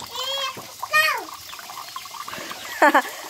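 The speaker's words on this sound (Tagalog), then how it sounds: "Ang lakas ng tubig namin ngayon." Water runs hard from a household tap in a steady rush beneath adults and someone talking close by.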